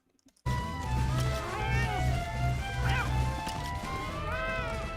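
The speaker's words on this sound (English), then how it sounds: "It's a slightly deformed, smush-faced loth cat, but it does go." A loth cat in Star Wars: The Old Republic, a slightly deformed, smush-faced pet, gives a string of clear, close meows over a low steady drone.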